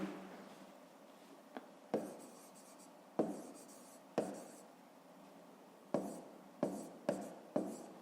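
Pen or pencil scratching out digits by hand during a fifth-grade maths exercise, close and quiet, in short strokes broken by several sharp taps and pauses as each number is written.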